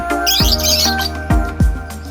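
Pet lovebirds chirp in a cage, with quick bright tweets and a few sharp downward calls close to the mic over faint background hum.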